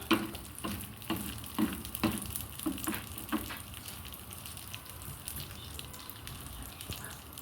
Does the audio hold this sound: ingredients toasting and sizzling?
yes